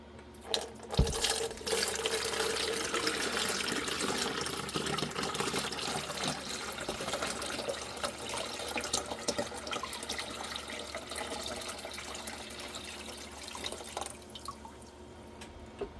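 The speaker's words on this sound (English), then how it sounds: "I'm going to go ahead and strain this other container" Redbud juice for jelly poured through a strainer into a container, a continuous close splashing trickle and dripping liquid that runs steadily before thinning out near the end.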